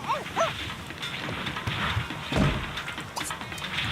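A dog in The Sims 2 gives a few short yips and barks, soft and somewhat distant, mixed with light game sounds and a faint murmur.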